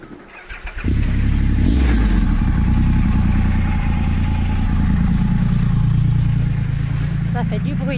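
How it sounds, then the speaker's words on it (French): Big motorcycles roar past loudly and close, a sustained heavy engine rumble that rises from a quiet start and holds for several seconds, with a voice talking over it. "Ça fait du bruit les grosses motos."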